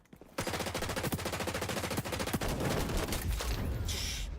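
Rapid automatic P90 fire in the shooter game XDefiant, a dense, unbroken stream of sharp shots that runs for several seconds and then trails into a sustained roar.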